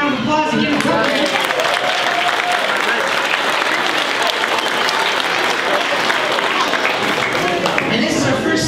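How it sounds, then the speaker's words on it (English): An elementary school audience applauds a group of third grade singers at a music program, dense steady clapping filling the whole stretch at close range, with some crowd murmur mixed in. "Let's give them a round of applause and give them a break."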